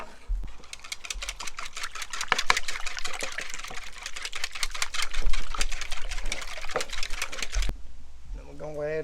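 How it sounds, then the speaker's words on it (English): Eggs whisked in a bowl to scramble them for a breakfast casserole, a fast, steady run of close, sharp clicking strokes that continues for several seconds before stopping near the end. "So we're going to break our eggs in here, get them scrambled up."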